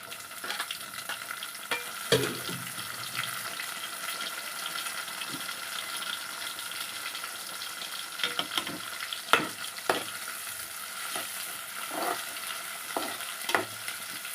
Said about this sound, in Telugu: ఇవి బాగా వేగాలండి. టమాటాలు మెత్తగా అయిపోవాలి నూనెలోనే.